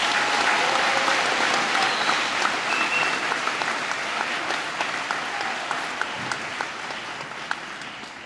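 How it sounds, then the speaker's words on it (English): A graduation audience applauds the Center Moriches High School class of 2026, dense sustained clapping from a large crowd that slowly tapers in the closing seconds. "Please join me in a round of applause for the class of 2026."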